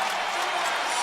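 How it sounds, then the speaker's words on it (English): A college basketball arena crowd cheers and roars in a continuous dense wash of noise from a Marquette vs Georgetown game. "and listen to the crowd."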